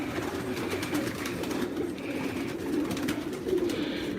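A flock of homing pigeons keeps up a steady, throaty cooing, several birds overlapping at close range, with no voices.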